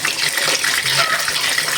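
Water pours steadily into a container while cooking porridge, a continuous gushing, splashing stream heard close and fairly loud throughout.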